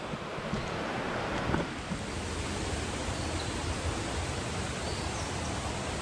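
Rushing water at Raman waterfall, a dense, constant broadband roar with no break throughout and no voices.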